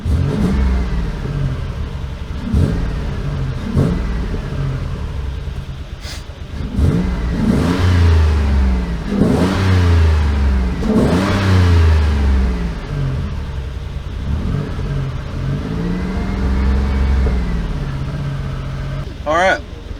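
A Mazda 3 engine, in the middle of an electric power steering pump swap, rises and falls in repeated revs as its idle speed is adjusted, loud and close, with a person talking over it.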